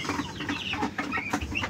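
A broodcock rooster clucks in a run of short, throaty calls, fairly close and loud, with no voices.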